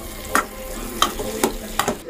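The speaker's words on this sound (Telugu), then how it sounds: "ఇప్పుడు ఇందులోకి నేను తోటకూరను అయితే మిక్స్ చేస్తున్నాను." Amaranth leaves are stirred into a tomato curry that is frying in a pan, giving a steady sizzle broken by about four sharp scrapes of the spoon.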